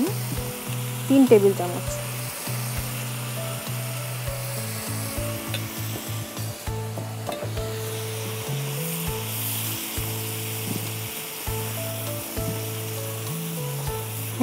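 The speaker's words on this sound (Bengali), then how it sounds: "একটু একটু ভালো করে ভুনে নিতে হবে, যাতে আপনার কাঁচা ঘ্রাণটা না থাকে আদা রসুনের।" Onion paste with ginger and garlic frying in a pan, a steady sizzle with occasional stirring scrapes, under a person speaking briefly and a low musical tone running throughout.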